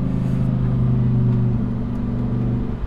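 A Lamborghini Huracan Tecnica's V10 engine drones steadily and loudly at close range, a dense low rumble holding an even pitch throughout with no talk.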